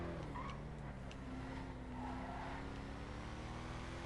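A Declasse Yosemite pickup truck, modeled on a second-generation Chevy C10, with its engine running in GTA 5, a low steady hum with slight pitch shifts, fairly faint and continuous.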